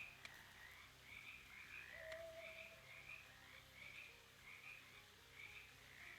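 Frogs in the video game Shadows Over Loathing croak in a steady repeating chorus of rhythmic trills over a faint background hum, quiet and continuous, with no speech.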